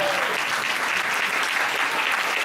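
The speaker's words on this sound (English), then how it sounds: "How about a round of applause just for everything that we celebrate this month?" An audience at a Sunday Assembly gathering in Sacramento applauds, a loud, dense, unbroken wash of many hands clapping for the whole stretch.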